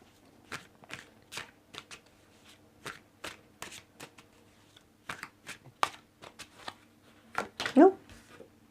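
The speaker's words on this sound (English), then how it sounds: "Let's put some more cards on the Five of Pentacles and see." Tarot cards are shuffled and laid out in a series of crisp, separate flicks and snaps, close up, with a quieter card rustle near the end.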